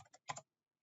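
A few quiet keystrokes on a computer keyboard while entering a command in Stata, three short taps in quick succession followed by silence and one more faint tap at the end.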